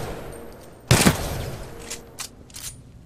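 A single loud, close gunshot from a weapon in the Titanfall 2 tutorial bursts out after a quiet lead-in. Fainter, shorter shots follow against low game ambience.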